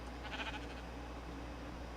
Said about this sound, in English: Sheep upstairs. I almost called them cows.